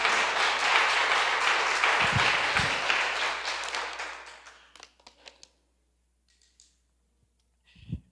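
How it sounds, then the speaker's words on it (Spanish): Church congregation applauding during a Spanish-language sermon, a burst of dense clapping that fades out after about four seconds, followed by near silence with a few scattered taps and small noises. "dele un aplauso a Jesús."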